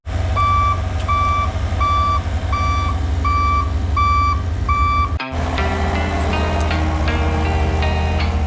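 A dump truck delivering topsoil on a tight city job site sounds its reversing alarm, a loud series of evenly spaced beeps over a low diesel rumble, followed by clanking and engine noise.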